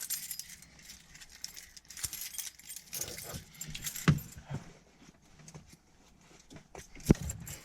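Keys jangle and clink in short, sharp bursts inside a 300,000-mile 7.3 Powerstroke diesel truck, fairly faint and close, with a few louder knocks and no talk over them.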